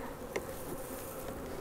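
Honey bees buzz around a hive in a dense, continuous hum close by, with a few individual insects droning past.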